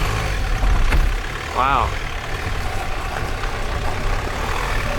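A Sprinter van crawls slowly over rough off-road ground, its engine a steady low rumble throughout, with a brief spoken exclamation near the start.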